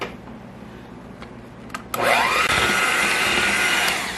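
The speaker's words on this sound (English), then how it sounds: "we're going to whisk this up till it's creamy" Brown sugar mixture for gingersnap cookies is whisked until creamy: after a couple of light knocks, a loud, steady whirring starts up with a rising pitch and runs on without a break.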